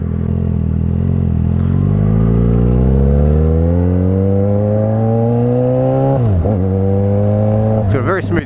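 A 2012 Yamaha FZ6R, a fuel-injected inline-four motorcycle, pulls smoothly through its revs while ridden, with a steady rising whine, a quick dip at a gear change and another shift near the end, loud and close throughout.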